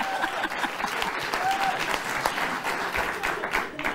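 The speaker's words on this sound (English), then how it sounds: "They're applauding that." Studio audience on The Greg Gutfeld Show breaks into applause, a brief, even burst of many hands clapping at moderate loudness with no talk over it.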